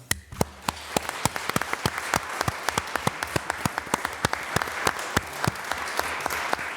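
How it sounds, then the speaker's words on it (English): Steady applause from a modest crowd at a city council meeting, many hands clapping in a dense, sharp patter that stays fairly even throughout with no voices on top. "They deserve the credit and a big round of applause."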